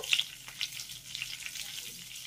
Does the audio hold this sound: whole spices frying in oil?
yes